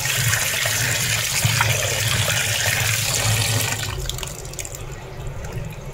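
Water pours from a kitchen tap while raw chicken is washed by hand. The stream gives a loud, close, continuous splashing rush that lightens slightly near the end.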